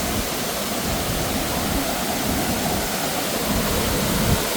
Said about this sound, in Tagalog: Lakas, grabe, lakas ng hangin dito.